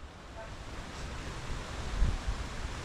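Steady outdoor wind rushes and buffets the microphone, gusting up briefly toward the end, with no voices.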